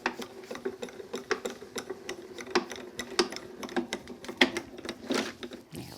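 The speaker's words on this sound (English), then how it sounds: "And run it through our grand caliber." Ratcheting clicks from a Grand Calibur die-cutting and embossing machine being hand-cranked, a steady run of close, moderately loud mechanical ticks and gear rattles with no talking.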